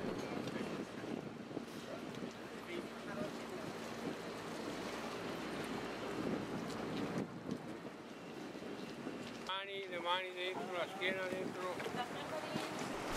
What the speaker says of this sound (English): we take the traghetto, the small ferry, across the Grand Canal